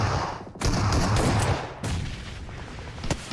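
Grenade blasts and gunfire in PUBG Mobile during an esports match on the Rondo map: dense, loud bursts of shooting and booms, with a sharp break near the middle and a single crack near the end.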